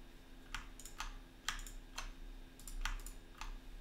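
Terminal command typed on a computer keyboard: a handful of distinct, sharp key clicks in an uneven rhythm, close and fairly quiet, with no talking.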